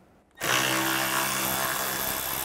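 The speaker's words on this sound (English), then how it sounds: "We're going to take this screw out. I'm going to use a T25." A power tool fitted with a T25 bit whirs on abruptly and keeps running steadily as it backs a screw out during turbocharger replacement on a 2007–2013 Mini Cooper S, loud and close with a high-pitched motor whine and no talking.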